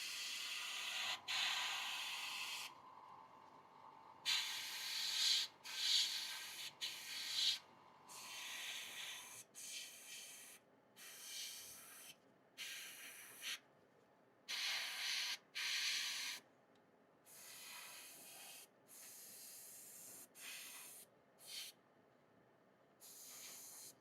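A spray paint can sprays dark purple paint in a long series of close hissing bursts, some short and some lasting a few seconds, separated by brief silent pauses, with no talking.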